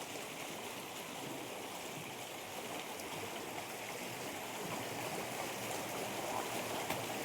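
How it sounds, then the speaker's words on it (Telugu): Stream water flows out from inside a hillside in the Seshachalam forest, a steady, soft broadband rush with a faint trickling texture, continuous and even throughout with no voices. "కొండ సర్కిల్లో నుంచి లోపల నుంచి వాటర్ వస్తున్నాయి"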